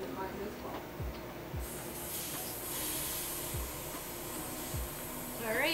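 An Iwata Smart Jet airbrush compressor runs steadily, a continuous hiss and hum with a few faint clicks, kept at moderate distance and alone without talk.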